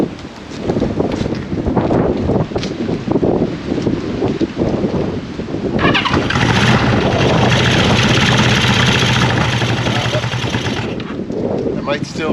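A 1974 Honda CB550 motorcycle engine cranking and sputtering, then catching and running steadily at close range with a loud rough buzz and wind noise, voices talking over the start.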